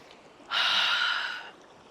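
One deep, close inhale through the mouth during a Pilates ball exercise on a mat, a soft breathy rush lasting about a second, with no talking over it.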